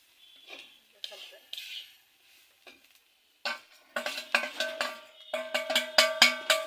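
Moringa leaves being stirred and fried in a pan, a sequence of sharp metallic clinks and scrapes from a utensil striking the pan, sparse at first, then rapid and ringing, with some speech mixed in.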